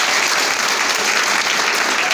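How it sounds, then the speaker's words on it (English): Students at a training programme ceremony applaud, a dense, steady burst of clapping from a crowd lasting a couple of seconds, loud and close with no talk over it. "give him a big round of applause for this wonderful job"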